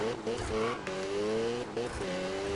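Car engine revving with tire squeal and skidding during a crash in the Need for Speed 2015 racing video game, loud and steady across the moment, with someone talking over it.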